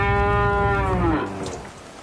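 A dairy cow on a farm gives one loud, close moo lasting just over a second, its harmonic tone sliding slightly downward before fading into quiet barn background.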